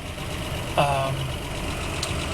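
A 1977 Land Rover 109 idles at a stop light with a steady, close low engine rumble. A brief tonal squeal rises near the start and then settles back into the constant drone.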